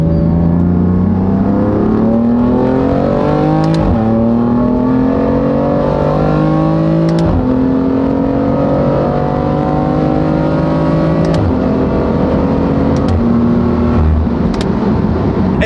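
A warmed-up car, a Supra, accelerates hard up a freeway on-ramp; loud engine tone climbing steadily through each gear with brief dips at the three upshifts, close and continuous with no talking.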